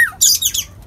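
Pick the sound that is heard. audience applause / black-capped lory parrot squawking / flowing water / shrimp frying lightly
black-capped lory parrot squawking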